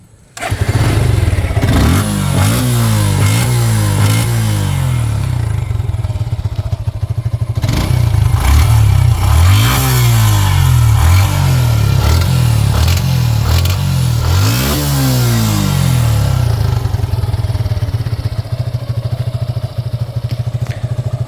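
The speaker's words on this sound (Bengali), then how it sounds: "বাইকটি আমরা স্টার্ট করলে বুঝতে পারবো বাইকের ইঞ্জিন সাউন্ডটা কেমন।" A Suzuki Gixxer SF 150cc motorcycle engine starts and idles steadily up close, with several throttle revs rising and falling over a continuous mechanical rumble.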